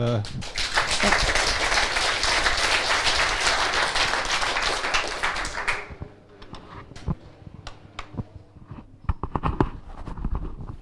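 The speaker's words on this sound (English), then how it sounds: "please give her a warm applause" Dense applause from a crypto conference audience welcoming a speaker fills the first half, then fades into scattered individual claps and knocks as the room settles.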